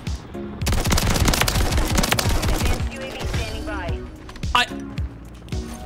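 JAK Maglift shotgun in Modern Warfare III firing in a rapid, dense burst of heavy blasts for about two seconds, then scattered shots and game effects, with a player's voice talking over it.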